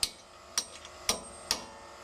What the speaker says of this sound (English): with a drift chisel and a hammer, hit the little edges so it locks in place